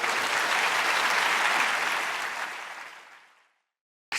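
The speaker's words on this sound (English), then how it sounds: "Please give the panel a warm round of applause." A lecture hall audience applauds a panel at the UCL-Lancet lecture on race and health inequality, a full, steady clapping that holds for about two seconds, then tapers off and falls silent.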